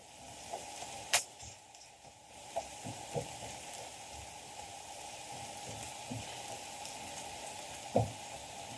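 Onions fry in a pan with a soft, continuous sizzle and occasional faint pops and ticks, quiet and close, with no voices.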